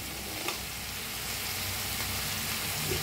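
Potatoes fry in a pan with salt added as they are stirred, giving a steady, close sizzle with faint scraping touches throughout and no talking.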